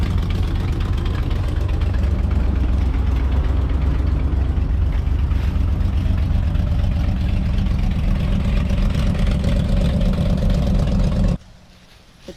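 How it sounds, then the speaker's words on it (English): A vintage vehicle's tailpipe rubbing against the drive shaft, heard as a loud, steady rumbling drone with a knocking engine underneath that runs continuously and then cuts off abruptly near the end. "The tailpipe is rubbing on the drive shaft."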